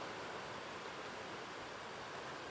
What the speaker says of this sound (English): So after months of praying for rain, it now won't stop.